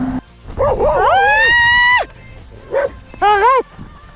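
Dogs in Turkey confronting touring cyclists, giving loud close whimpering yelps and high, drawn-out whining howls in two separate bursts, with faint background noise between.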